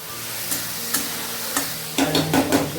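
Spices, salt and vegetables are stirred in a hot pan while frying, with a steady sizzle and a few scraping knocks of the spoon, then a louder rattling scrape near the end, close and without speech.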